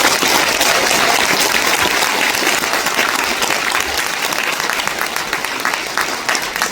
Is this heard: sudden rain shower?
no